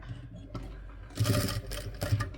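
A sewing machine stitches through layers of a doormat made from leftover cloth, a faint whir followed by louder rapid mechanical bursts, close and without talk.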